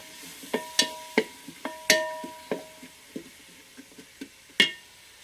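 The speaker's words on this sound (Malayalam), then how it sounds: "നല്ല ഒരു ബ്രൗൺ കളറാവുന്നത് വരെ ഒന്ന് ഇളക്കി കൊടുക്കണം" A spatula clinks and scrapes against a pan while stirring frying onions, in about a dozen sharp, uneven taps, with a faint sizzle underneath in an otherwise quiet kitchen.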